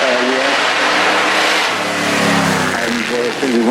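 A pre-war racing car drives the Goodwood Festival of Speed hill climb, its engine loud and near, rising in pitch as it accelerates past, while a commentator talks over it.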